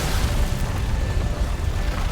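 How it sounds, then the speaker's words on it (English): A big, very close explosion in the video game Monster Hunter World Iceborne, heard as a dense, loud low rumble that rolls on steadily for about two seconds without talk. "that was a big explosion. That was very close."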